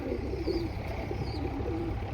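Pigeons in a loft, newly brought from a friend, give soft low cooing phrases, near and steady, with faint chirps above and no talk.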